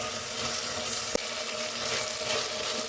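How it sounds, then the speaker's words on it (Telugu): Tomatoes fry in oil in a pan, a dense continuous hiss with a single sharp clack about halfway through. "టమాటోస్ కూడా ఆయిల్లో బాగా ఫ్రై చేసుకోవాలి"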